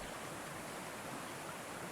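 Steady broadband rush of a flowing stream, continuous and even throughout, with no voices.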